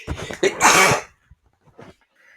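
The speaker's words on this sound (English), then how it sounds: "That really creeped up on me, that sneeze." A single loud, close sneeze with a sharp inhale before it, followed by quiet breaths and small mouth sounds.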